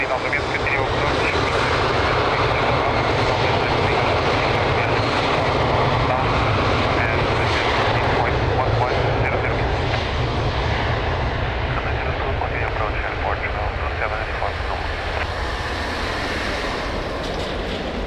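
Loud, continuous aircraft engine roar from a plane taking off at Lisbon Airport, sustained at near-constant strength throughout, with a voice and radio chatter running underneath.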